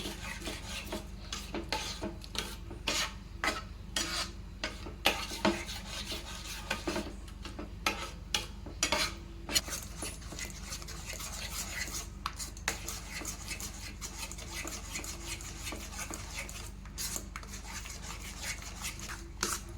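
A sweet cashew-katli-style nylon vadi mixture is stirred hard in a pan over a high gas flame, giving continuous close rasping scrapes with uneven louder strokes and no talking.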